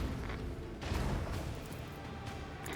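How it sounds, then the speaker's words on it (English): Macro cannon salvo from a starship in the space strategy game Rogue Trader, heard as a loud, continuous roar of booming blasts and rumbling, dense and unbroken throughout. "Macro cannon, open fire!"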